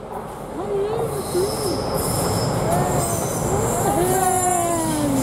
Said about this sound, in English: Can you hear the tram coming up?